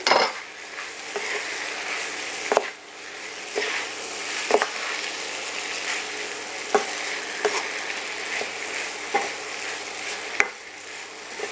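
Pancit lusay noodles sizzle steadily in a hot pan while a utensil stirs them, with periodic sharp scrapes and clinks against the pan over the continuous frying hiss.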